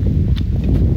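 Horse hooves clip-clop at a dry rural farm where horses, a donkey and cattle gather, a few muffled steps over low rumbling background noise.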